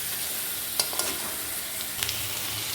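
Ginger-garlic paste with green chilli and chopped tomato sizzles steadily in a pan for chicken kosha, with a few sharp scrapes and clinks of stirring standing out; no voices.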